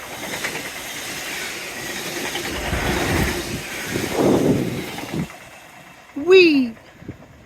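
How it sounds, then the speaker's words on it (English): A train passes along the Dawlish seawall by the sea, its rumble rising and fading over several seconds, with someone talking over it and a sharp whistle near the end. "At last, we have train."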